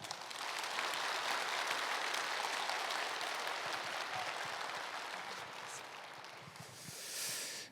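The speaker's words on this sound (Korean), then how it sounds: "우리 인사 나눌 때 크게 환영의 박수 해주시기 바랍니다." A church congregation at a Wednesday morning worship service claps in welcome for newly introduced staff, a soft, continuous wash of applause from a roomful of people heard at a distance, with no talking.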